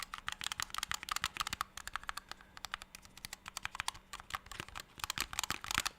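Rapid, steady typing on a keyboard fitted with silent keys, a dense run of soft, muffled key presses close by, with no voices.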